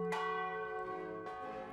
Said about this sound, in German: Diese Glocke schlägt noch immer zum Weggeläute der Bergknappen.